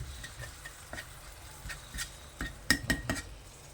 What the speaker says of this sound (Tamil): தக்காளி போட்டாச்சு. நல்ல தக்காளி வதங்கணும்.